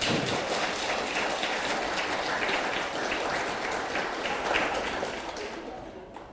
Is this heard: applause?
yes